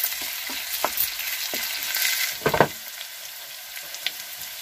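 Sliced onions with a little salt sautéing in a pan, a quiet sizzle punctuated by several loud scraping stirs, the heaviest cluster midway, with no voices.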